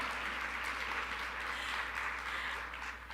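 A conference hall audience at an academic opening session claps in sustained, evenly dense applause that fades slightly toward the end, with no speech over it.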